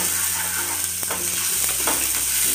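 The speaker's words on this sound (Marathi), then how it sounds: "कांदा आपण तांबूस रंगापर्यंत भाजून घेऊ" Two large chopped onions fry in a pan toward reddish-brown for a Khandeshi-style mirchi bhaji, giving a steady close sizzle with a few sharp stirring scrapes and knocks.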